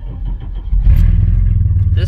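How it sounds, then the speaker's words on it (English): A loud engine rumbles and revs up from a vehicle close by, with a deep steady drone; a voice speaks briefly over it. "This truck is really loud,"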